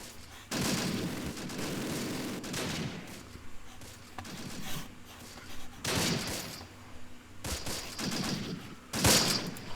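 Infantry gunfire in the Close Combat war game, with overlapping rifle and machine-gun bursts crackling steadily throughout, rising and falling in several heavier volleys at a moderate distance.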